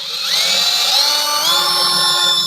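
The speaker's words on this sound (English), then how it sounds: "the old tried and true Harbor Freight, not typical, the upgraded spiral cut step bit" A Harbor Freight spiral cut step bit bores through metal for a go-kart steering shaft, a loud, close, continuous whine that shifts in pitch as the drill works.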